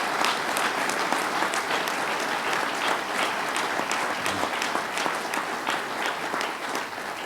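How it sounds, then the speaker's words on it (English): Audience at a public announcement of the Nano Utica investment at SUNY IT in Utica gives a full round of applause, dense continuous clapping from a sizable crowd lasting the whole stretch. "Let's give a big round of applause to Dr."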